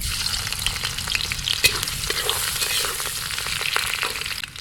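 Ginger frying in hot oil in a wok on a boat on the Padma river, a loud dense sizzle close by with busy stirring scrapes throughout, no speech.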